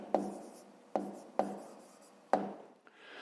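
A pen writes numbers on paper for a fifth-grade maths exercise: four distinct scratching strokes, each starting sharply and trailing off, close and clear, with no voices.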